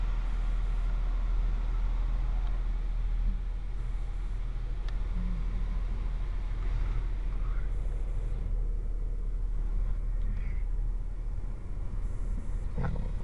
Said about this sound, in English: Undercarriage wash.